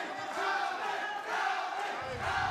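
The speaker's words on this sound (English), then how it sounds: "The crowd goes to work in favor of Elvin Espinoza." A large arena crowd at a PFL mixed martial arts fight roars and cheers steadily after a takedown, a dense sustained wall of voices with a swell midway.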